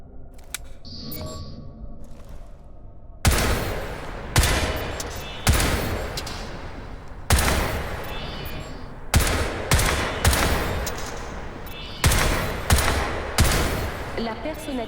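Bursts of automatic gunfire from the Crysis 3 video game, several loud rapid volleys separated by short pauses, each with sharp crackling attacks, after a quieter opening section with a voice talking.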